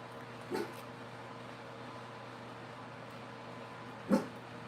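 A neighbors' dog outdoors gives two short, distant barks a few seconds apart, faint against a steady background hum.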